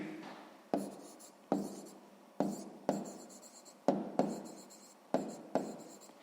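Pen or pencil scratches out a maths answer in a quiet room, eight short bursts of writing strokes, each starting sharply and trailing off, close and fairly faint.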